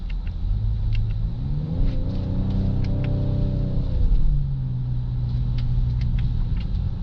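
A 2.7 liter car engine growls as it accelerates, its rumbling pitch climbing through a gear, dropping at a shift and settling into a steady drone, loud and close with no talking.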